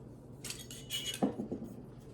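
A metal lid being set onto a hot glass canning jar of chicken marsala gives a few light clinks and taps, with a brief louder knock in the middle, fairly close and quiet, and no one speaking.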